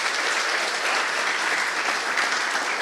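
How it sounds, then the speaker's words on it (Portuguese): Steady applause from an audience at a formal council session fills the whole stretch, dense and even clapping at moderate loudness with no voices over it. "Vamos aplaudir ele mais uma vez."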